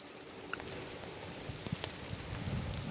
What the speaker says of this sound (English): It's pretty cold rain too